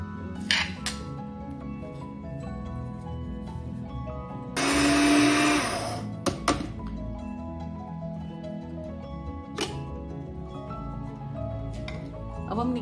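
A grinder pulverizes whole garam masala spices, one loud, harsh whirring burst of about a second and a half, set among kitchen clinks and a busy background hum.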